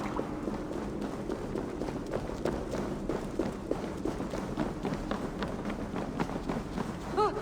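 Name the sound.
running footsteps in the video game Assassin's Creed Valhalla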